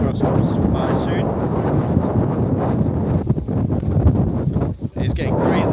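Strong wind buffets the microphone on a boat at sea off Newfoundland, Canada, a loud, constant roar with gusty surges and brief dips, and faint voices now and then underneath.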